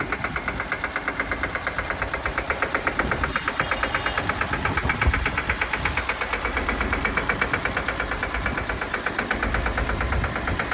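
A new tractor's engine runs steadily and loudly close by, a continuous throbbing chug with rapid, even pulses and no speech over it.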